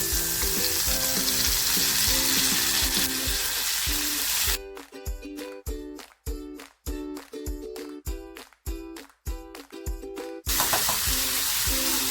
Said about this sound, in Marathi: लसूण आहे ना आपल्याला खमंग परतवायची आहे आता ज्या घेवडी घेतल्यात ना त्या टाकते